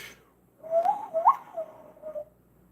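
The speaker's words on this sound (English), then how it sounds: "Sounds more like a dog whistle." A high-pitched whistle with a piercing, dog-whistle-like tone, sounding in a few short wavering bursts close to the listener, alone with no talking.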